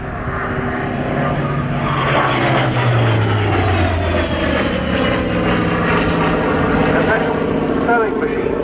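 A 2,500 horsepower Bristol Centaurus aircraft engine drones smoothly and loudly throughout, its steady roar shifting slightly in pitch as the plane passes at an airshow, with a commentator talking over it.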